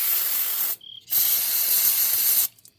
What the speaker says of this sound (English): I'm just going to spray my brush